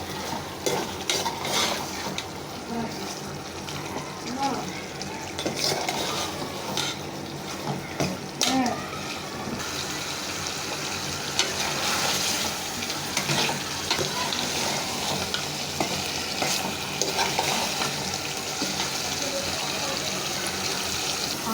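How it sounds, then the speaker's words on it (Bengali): Beef with potatoes being stirred and braised in a pan, giving a steady sizzle with scraping utensil and pot clatter throughout. "কষা কষা করে রান্না করব।"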